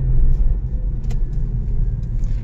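Hyundai Coupe 2.7 V6 engine and exhaust idling with a deep, steady low rumble heard up close, smooth and even.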